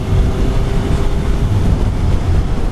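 A 2018 Suzuki GSX-S750 four-cylinder motorcycle engine hums in a steady low rumble while riding, mixed with constant wind buffeting that stays loud throughout.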